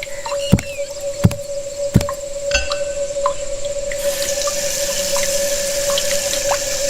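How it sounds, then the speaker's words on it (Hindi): A man washes his face at a running tap, with water pouring and splashing into a sink, a few sharp drips and knocks at the start, and a steady tonal hum underneath. "उसने अपना चेहरा धोया"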